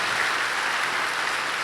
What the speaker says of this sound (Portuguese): Pode aplaudir o Senhor, que eles merecem, certo?